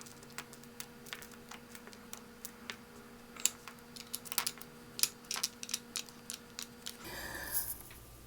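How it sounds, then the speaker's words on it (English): Mah jongg tiles are picked up and arranged by hand, making a string of sharp, irregular clicks and clacks close by, ending in a brief rustling shuffle. "I shuffled the tiles, and now I'm picking 13 tiles again."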